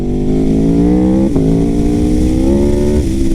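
A 217-horsepower Aprilia RSV4 sport bike engine howls steadily at high revs on a mountain pass road, loud and close, with a brief dip in pitch at a gear change and a smooth rising tone.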